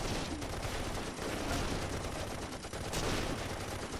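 Sustained machine gun fire in the World War II strategy game Close Combat, a dense continuous rattle of rapid shots with no voices, steady and fairly loud throughout.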